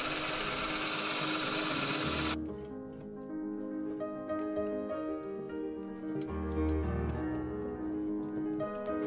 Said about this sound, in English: so I drilled and tapped it as normal.